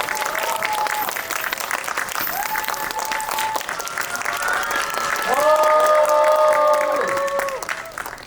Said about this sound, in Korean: 세 분 큰 박수로 맞이해주세요.